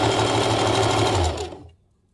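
A sewing machine runs a reverse stitch on a piped top, a steady fast whirring hum up close that slows and stops after about a second and a half, leaving silence.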